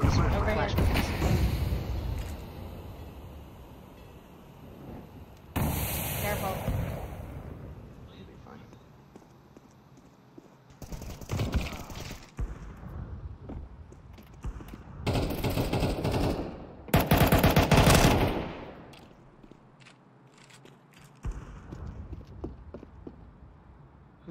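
Counter Strike 2 firefight: bursts of automatic gunfire and loud grenade blasts come in separated clusters, with players talking between and over the shots.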